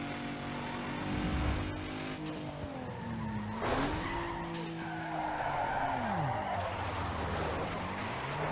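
A modified SUV drifts in the racing game Need for Speed Underground 2, its tires squealing in long, wavering, pitch-sliding skids over a steady engine roar, loud and continuous with no talk.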